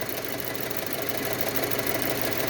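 A 2007 Audi Quattro with an emissions problem and a carbon-clogged catalytic converter runs at full throttle, a loud, steady, close engine roar with a rough, pulsing undertone throughout.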